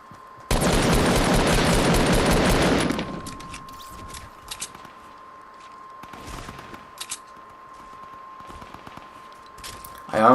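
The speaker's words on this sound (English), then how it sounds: "I honestly could have went to those gunshots immediately." A loud burst of rapid gunfire in Fortnite roars for a few seconds, then fades to scattered clicks and a thin steady tone, like game audio.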